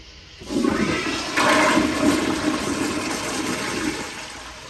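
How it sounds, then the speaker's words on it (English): A 1.6 gallon-per-flush Kohler Kingston toilet flushes a load of toilet paper, a loud rushing, swirling roar of water that starts abruptly, swells partway through and keeps draining steadily to the end, with no talking. "this for sure requires a second flush"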